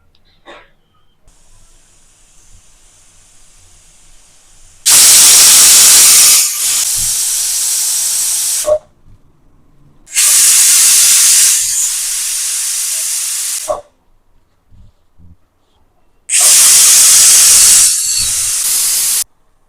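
A pressure cooker on a stove, cooking sprouted-gram sambar, lets out three loud, close bursts of whistling steam, each hissing for a few seconds with quiet gaps between them.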